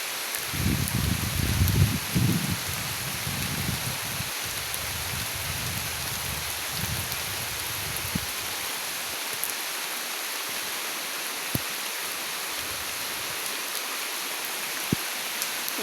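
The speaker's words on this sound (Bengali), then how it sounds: "বৃষ্টি তো খুব জোরে নামতেছে।" Heavy rain pouring down steadily near a family graveyard, a dense even hiss with occasional drips and rustles, with some low murmuring at the start.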